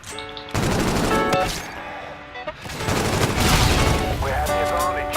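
Video game gunfire in loud, sustained bursts of rapid automatic shots with booming impacts, dense and close throughout, mixed with game sounds.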